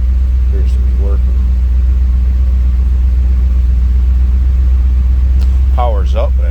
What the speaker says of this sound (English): Go ahead and fire this up so you can hear it run.